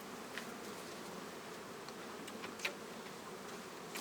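Honeybees at an outdoor beehive while a second story is added, a soft continuous buzzing swarm with occasional louder individual bees passing close, no voices over it.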